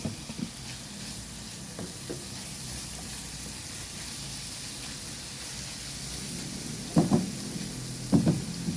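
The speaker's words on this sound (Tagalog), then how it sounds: "Habang nagigisa siya" Sliced hot dogs sautéing in a pan for a spaghetti breakfast, a steady close sizzle with occasional stirring knocks and two louder clatters of utensil against the pan near the end.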